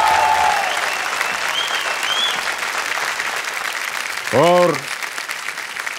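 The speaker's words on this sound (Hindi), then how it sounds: "तालियों के साथ आपका हम अभिनंदन करते हैं।" A studio audience on the Kaun Banega Crorepati quiz show claps loudly and continuously for six seconds, a short musical sting rising briefly over the applause near the end, with a voice speaking underneath.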